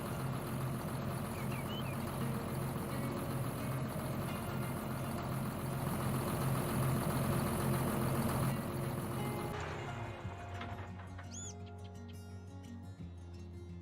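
A tractor engine idles steadily in a farming video game, a continuous low rumble with engine harmonics that drops in level and changes character near the end as the engine note shifts, with faint bird chirps over it and no talking.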